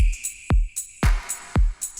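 An EDM drum loop of punchy kicks with crisp snaps, every fourth snap swapped for a clap, repeats in a tight, bouncy rhythm, loud and up front without any voices.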